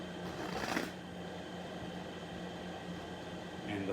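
A quick riffle of playing cards being shuffled at a blackjack table rises briefly near the start, then a steady low hum carries on with a soft rustle at the end.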